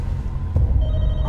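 A phone rings inside The Walking Dead: Michonne game, a short electronic ring over a low rumbling background, close and fairly loud.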